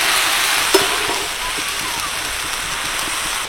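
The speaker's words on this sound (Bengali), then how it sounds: "ভালো করে আর একবার নাড়িয়ে চাড়িয়ে নেব।" Fresh drumstick flowers frying in an oil-filled wok while being stirred, giving a constant hissing sizzle with a single soft clack of utensil against the pan early on.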